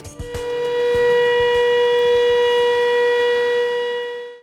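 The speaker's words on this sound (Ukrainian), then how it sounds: "Сонячна погода, весна на вулиці вже тепло, але природну красу перериває сирена." An air raid siren wails over a sunny spring city street, a loud steady sustained tone holding for the whole stretch with faint street noise beneath and no talking.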